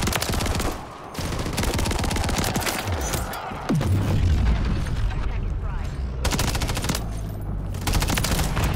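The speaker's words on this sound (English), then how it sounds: "I gotta show them the full auto shotgun." Full-auto shotgun fire in Call of Duty: Modern Warfare III, dense rapid booming blasts mixed with explosions and game noise, loud and nearly continuous, with someone talking over the action.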